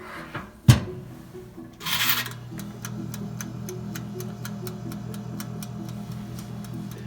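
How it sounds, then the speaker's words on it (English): A toaster oven warming a waffle for a breakfast sandwich starts with a sharp clunk and a brief scraping twist. Then its timer ticks in a quiet, even, regular rhythm over a low hum. "So I'll put this in the toaster oven for 3 or 4 minutes just to warm it up"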